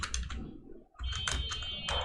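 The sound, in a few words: typing a code comment on a computer keyboard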